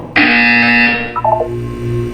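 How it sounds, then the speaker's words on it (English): A Portal 2 test-chamber buzzer sounds once, a loud, harsh electronic tone lasting about a second, followed by a short run of quieter stepped beeps. "When you hear the buzzer, look down at the floor"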